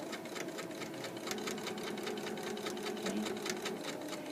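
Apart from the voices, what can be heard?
sewing machine stitching fabric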